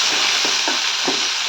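Onion, green chili and curry leaves fry in hot oil with mustard seeds and urad dal for a tomato sambar, a loud, steady sizzle with soft stirring scrapes.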